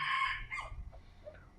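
Near a chicken coop on a poultry farm, a rooster gives a short crow followed by a few soft clucks from chickens, fairly faint and close, with no voices.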